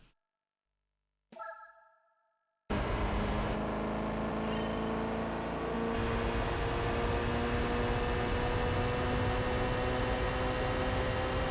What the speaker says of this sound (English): I do like the roaring engine as well.